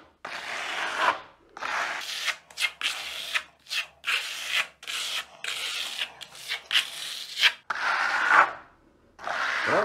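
A trowel spreads and smooths travertine plaster across a wall, giving repeated close scraping strokes in an uneven rhythm with brief pauses between passes.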